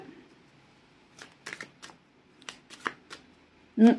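A tarot deck is cut and shuffled up close, with quiet riffling bursts and soft card flicks coming in short, uneven clusters, then a firm thump as the deck settles at the end.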